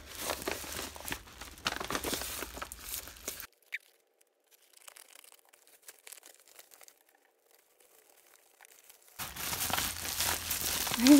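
Crinkling packaging being unwrapped from a parcel, a dense close rustle and crackle at the start and again at the end, with a quiet gap in between.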